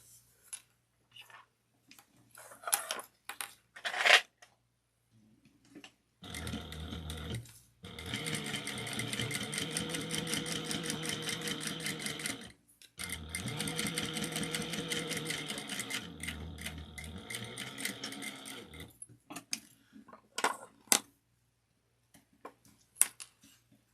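A sewing machine top stitches a fabric and vinyl ID wristlet at an eighth of an inch, running in two steady bursts of about six seconds each with a short pause between, framed by quiet clicks and handling noises before and after.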